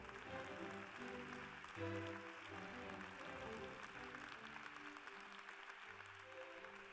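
Applause from a group fills the room at the European Heritage Awards ceremony in Venice, steady and dense, with some music or voices underneath throughout.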